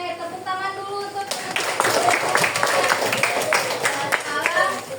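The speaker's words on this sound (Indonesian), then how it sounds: "Oke, tepuk tangan dulu untuk" Classmates in a school lesson break into applause, a dense burst of clapping that starts sharply after a second of quieter sound and carries on steadily to the end, with a few voices mixed in.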